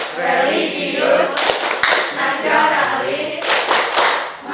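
A group of schoolchildren claps in quick rhythmic bursts during the Tepuk PPK clap chant in an Indonesian classroom, the clapping rising and falling in patterned sets over steady vocal chanting.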